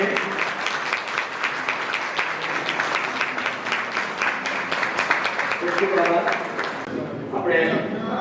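A crowd at a retirement function in Dhrol claps loudly and steadily, dense applause sustained throughout, thinning briefly near the end before swelling again, with some voices mixed in.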